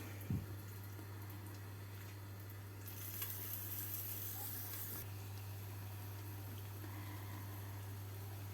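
A faint, steady sizzle of pies frying in a pan, with a brief burst of brighter spitting in the middle, under a low hum.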